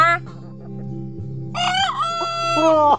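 Rooster crows loudly and close, a drawn-out warbling call following low clucking and a brief higher squawk at the start.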